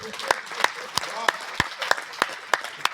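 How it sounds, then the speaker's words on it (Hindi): An audience at a Hindi poetry recital in Prayagraj claps along in a steady rhythm, sharp regular hand claps roughly three per second over a murmuring crowd. "जोरदार ताली बजाते हैं।"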